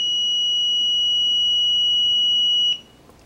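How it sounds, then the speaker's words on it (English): A multimeter continuity tester emits one steady high beep while checking a three-phase motor winding, sustained for almost three seconds before cutting off abruptly into quiet room noise. "We had an audible sound, which means we had continuity."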